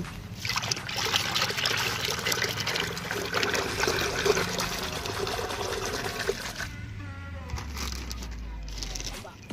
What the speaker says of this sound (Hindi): इसके अंदर हम डालेंगे डिटर्जेंट पाउडर